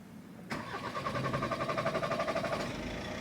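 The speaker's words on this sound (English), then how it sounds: "Let's press the start button and see if we can get the engine going." A Skoda Octavia Mk4 vRS with a 2.0 TDI diesel engine cranks for a moment and catches, settling into a loud, close, rhythmic clattering idle that holds steady.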